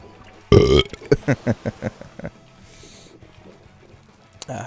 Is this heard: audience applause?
no